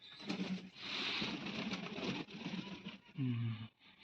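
Pigeons near a clay water cooler coo in soft repeated throaty phrases, fairly close but faint, with a brief low rumbling call near the end and quiet outdoor noise between.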